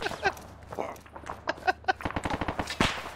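Gunfire in the ARMA 3 military video game, a rapid series of sharp cracks and short bursts, some overlapping, heard under excited talk from players.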